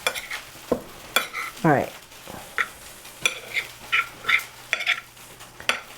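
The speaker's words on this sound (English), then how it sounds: "let me give this a good mix." Tofu being gently stirred with hot sauce in a pan for spicy vegan ramen, giving scraping and clinking strokes and brief sizzles at uneven intervals, close up, with a short spoken remark near the start.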